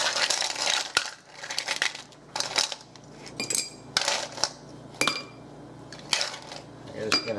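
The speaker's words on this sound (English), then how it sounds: "Then we're going to go in with our ice cubes." Ice cubes tumbling into an Old Fashioned cocktail glass over whiskey, a series of loud, hard clinks and rattles in irregular bursts as the glass is filled, each drop ringing briefly against the glass.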